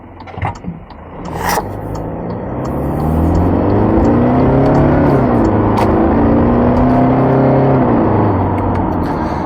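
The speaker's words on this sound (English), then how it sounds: "It actually takes off quite well for a a big four-wheel drive, it really does." A 2023 Toyota Fortuner Crusade four-wheel drive accelerates hard in sport mode, its engine rising from a brief rumble into a loud, sustained climbing drone heard from inside the cabin.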